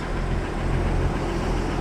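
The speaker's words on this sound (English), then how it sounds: "Engine noise." A Jeep engine runs steadily at idle, a low continuous rumble close by with no talking.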